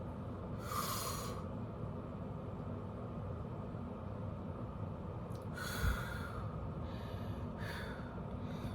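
Slow, deep breaths in and out, two or three long airy swells spaced several seconds apart over a steady low room hum, fairly close and soft, with no talking.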